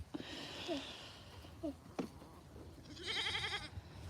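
Goats on a homestead bleat a few times at moderately close range, with short calls followed by a longer, wavering bleat near the end over quiet background noise.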